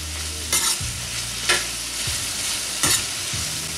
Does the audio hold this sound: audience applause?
no